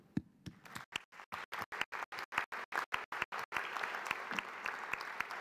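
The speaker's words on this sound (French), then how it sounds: "je pense que vous avez le droit de vous applaudir" An audience applauds at a firefighters' federation general assembly in a large Paris theatre. The claps start sharp, separate and evenly spaced, then swell into continuous, full-room applause.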